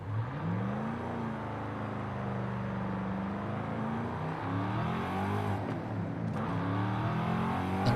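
Car engine in a racing video game driven with a manual shifter and clutch, droning steadily as the revs climb, dip at a gear change and rise again, loud and without talk.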